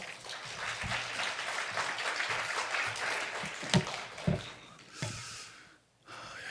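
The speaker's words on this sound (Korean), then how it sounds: "나오실 때 박수로 환영하겠습니다." An audience applauds to welcome a speaker at a university chapel service, with a sustained rustle of clapping and a few louder bumps before it tapers off near the end.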